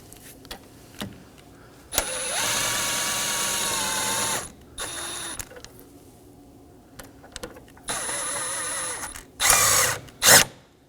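Power drill tightening the battery hold-down bolts on a 2015-2023 Nissan Maxima, with several close, loud whirring bursts of a couple of seconds each, separated by quiet pauses and short clicks.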